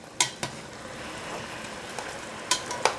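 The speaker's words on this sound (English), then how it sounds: "It's starting to make a sizzling sound." Chicken sizzles steadily as it fries in a pot for Southern stew-fried chicken, a close, even crackle broken by a few sharp metallic clinks from a lid or utensil.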